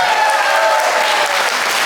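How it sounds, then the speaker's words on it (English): An audience at a formal event bursts into loud, sustained applause, a dense wash of clapping that holds steady from start to finish with no voices over it. "Let's give a big round of applause to Father Teal."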